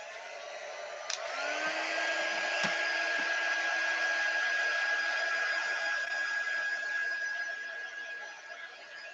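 Hair dryer blowing steadily on a painted poppy sign, a loud continuous whir with a steady high whine that starts abruptly and runs unbroken, easing slightly near the end.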